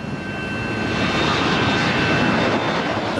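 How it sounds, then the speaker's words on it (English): Military jet aircraft, F-14s and A-7 attack planes, taking off from an aircraft carrier: a loud, steady, unbroken engine roar filling the whole stretch with no voices over it. "2 F-14s and 2 A-7 attack planes took off to investigate."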